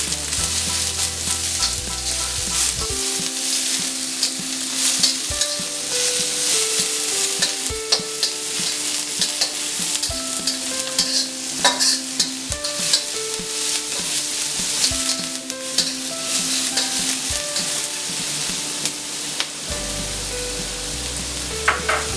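Onions frying over full flame in a pan for soya Manchurian, a loud, constant sizzle with frequent stirring clatter, with faint background music beneath the cooking noise.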